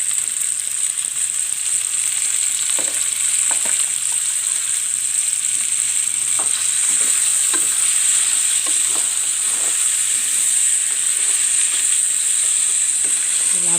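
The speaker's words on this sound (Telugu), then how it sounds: "ఈ చికెన్ వేసేసి బాగా కలుపుకోవాలి" Washed chicken pieces sizzling in a hot pan for chicken fry, a loud continuous hiss with scattered scrapes and clinks of a spoon stirring, no talking.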